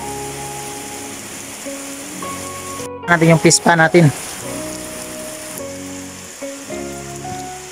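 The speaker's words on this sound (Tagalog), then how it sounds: "So hindi kami makagalaw dito kasi napakalakas ng ulan." Heavy rain falls on a flooded home with fish ponds, a steady dense patter throughout, while someone speaks nearby and a short burst of louder splashing rises in the middle.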